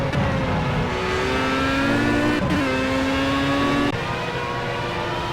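Race cars roar past in Project CARS at the Zolder circuit, a steady, loud engine drone whose pitch shifts and drops abruptly at gear changes, with several motors layered close together.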